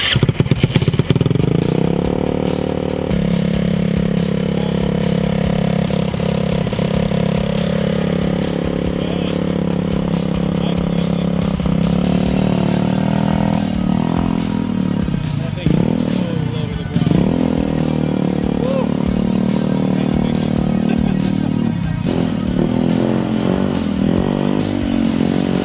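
A Metruck motorcycle engine idles with the choke on, a loud continuous chugging rumble with rattling clatter that wavers slightly in pitch, close up and steady throughout.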